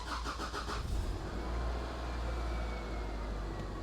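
A 2003 Subaru with a newly replaced alternator cranks briefly and fires up, then settles into a steady, close idle with no voices.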